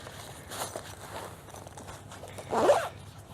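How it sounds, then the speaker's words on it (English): A zipper pulled shut on the stuff-bag pouch of a Kingcamp ultralight camp cot, turning it into a small pillow: soft fabric rustles first, then one quick, close zipping stroke near the end. "And then you just zip it up, and then you have a little pillow."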